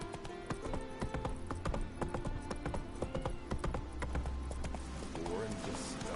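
Roach, the horse in The Witcher 3, gallops with a quick, steady clip-clop of hooves, close and continuous, and a voice is heard speaking over the hoofbeats.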